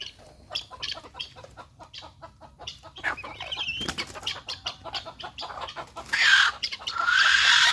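Hybrid junglefowl squawks and clucks in alarm as it is caught, with wings flapping in a burst; the calls grow loud and shrill near the end, close to the listener.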